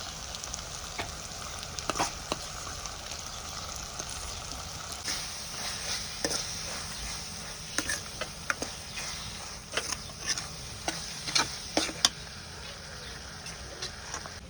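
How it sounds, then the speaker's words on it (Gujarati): Onions and tomatoes being stirred together in a pan, a quiet steady sizzle with irregular spatula scrapes and taps against the metal, close and fairly soft. "આપણે ડુંગળીને ટામેટા મિક્સ કરી દેવાનું છે"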